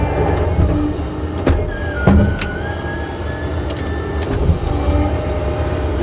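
Hydraulics on a Wicked tree puller attachment whine and creak as it is tilted back and forth, with a strained rising tone and some sharp clunks over a constant engine rumble.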